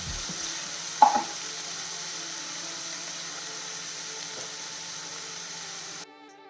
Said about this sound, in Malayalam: ഇത് നല്ല രീതിയിൽ നമുക്കൊന്ന് വഴറ്റണം ഇനി കുറച്ച് കറിവേപ്പിലയും കൂടെ ചേർക്കുന്നേ